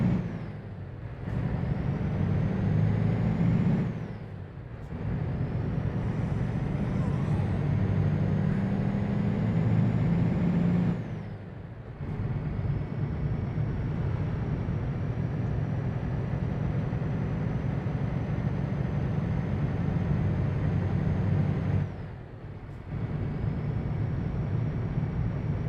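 A truck engine drones steadily while driving in Euro Truck Simulator, a loud low rumble repeatedly cut off by short breaks as gears shift, with the engine then resuming at a similar level.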